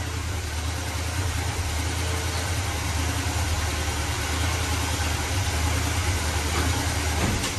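A 1981 GMC Sierra truck engine that has sat for years idles steadily up close with a loud, even rumble and mechanical vibration, while the transmission is shifted through its gears, no voices over it.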